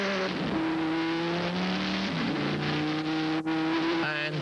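At Monza during a 1999 FIA GT Championship race, a Viper GT car accelerates hard out of the chicane toward Curva Grande, its engine note climbing through gears with a loud, close, rising roar and a quick shift partway through.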